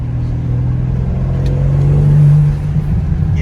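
A 2022 BMW M3 Competition accelerates into turbo boost: a loud, steady engine drone swells and climbs in pitch, peaks, then eases back, with no talking over it.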